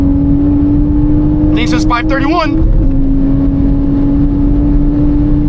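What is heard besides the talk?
manual Toyota Supra accelerating on the dyno in fourth gear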